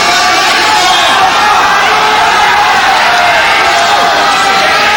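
Dense crowd roar fills a judo hall at the 1995 World Judo Championships, a steady loud wash of cheering and shouting with no clear breaks throughout.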